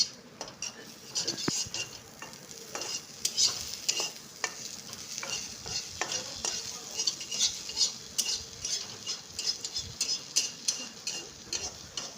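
Potatoes fry in a pan in a home kitchen, a steady sizzle broken by frequent clinks and scrapes of a utensil stirring against the pan, close and fairly quiet.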